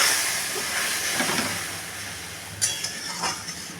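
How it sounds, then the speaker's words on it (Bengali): Spices hiss and sizzle in hot oil for a Bengali fish curry with raw mango and mustard, a steady close frying crackle with a few small clinks of utensils and no talking. "এই যে এই তেলের মধ্যে মশলাটা ছেড়ে দেবো।"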